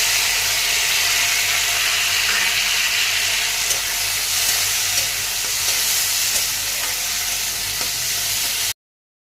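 Whole tomatoes fry in hot oil in a pan with a loud, continuous sizzle and hiss, close up and steady, with a few faint stirring scrapes before it cuts off abruptly.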